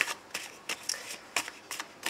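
Oracle cards being shuffled for a card reading give short riffling bursts, about six quick flurries in a row, close and soft, with no talking.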